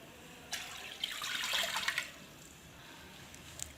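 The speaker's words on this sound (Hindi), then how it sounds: "एक कढ़ाई में 2 गिलास पानी ऐड करेंगे" About two glasses of water poured into a kadhai while making aloe vera halwa, heard as a faint splashing pour lasting roughly a second and a half before quiet returns.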